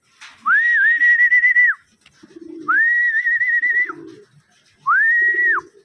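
Racing pigeons give three long, loud, close whistling coos, each about a second long with short gaps, and soft low fluttery sounds between calls.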